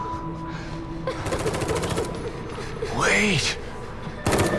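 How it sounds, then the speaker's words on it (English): Gunfire in the video game The Evil Within 2 comes as rapid, rattling bursts with a sharp, loud report at the end. Several voices talk over it. "Who's shooting?"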